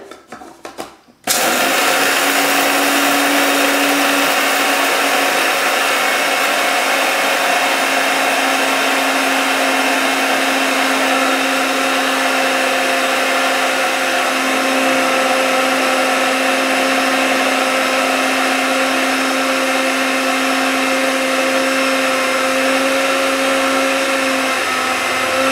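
Liberica coffee beans are ground in an electric grinder that starts after a brief clatter and then runs as a loud, steady, close whirring drone for over twenty seconds with an even high-pitched hum.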